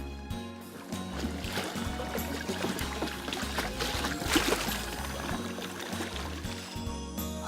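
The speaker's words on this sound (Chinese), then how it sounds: "流水声以及清爽微风疗愈心灵。" Water flows and laps steadily around a canoe on Lake Towada, a continuous near wash with soft splashes and trickles and no voices.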